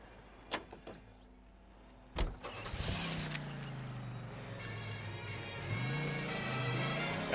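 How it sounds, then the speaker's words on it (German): A car in the video game L.A. Noire: a door clunks shut, then the engine starts and settles into a steady idle that swells slightly toward the end, with no talking. "Dafür nehmen wir natürlich das Auto."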